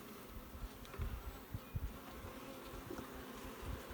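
Honeybees buzz around an open hive frame holding capped and open brood, a soft steady hum with occasional louder passes of individual bees flying close, faint and with no talking.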